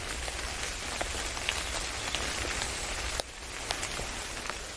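Rain falling steadily on a surface, a dense even patter with scattered distinct drops and a slight dip in intensity partway through, heard alone.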